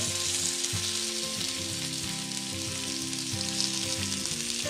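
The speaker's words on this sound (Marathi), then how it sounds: "जो बांगडा आहे तो बांगडाही आता आपण सोडलेलं आहे पॅनमध्ये फ्रायसाठी" Bangda mackerel frying in a pan as part of a Konkani mixed fish fry, giving a loud, continuous sizzle and crackle of hot oil throughout, heard alone without voices.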